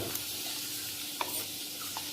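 Sun-dried vadiyalu sizzle in hot oil while being stirred, giving a soft, continuous frying hiss with a few light scraping clicks and no speech.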